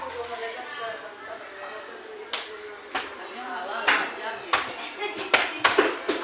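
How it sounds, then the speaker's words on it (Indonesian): Students in a school session at SMPN 19 Lebong clap in short, scattered bursts, a handful of sharp, separate claps that grow more frequent toward the end, following a stretch of talking. "Kalau betul, silakan tepuk tangan"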